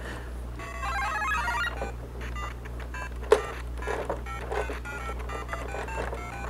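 A Lego Mario figure powers on with a bright electronic jingle of chirps and beeps over a steady low hum, with one sharp click midway.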